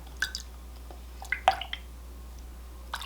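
A paintbrush is rinsed in a cup of water during lemon juice yarn dyeing, giving a few soft, sparse drips and wet squishes over a quiet background.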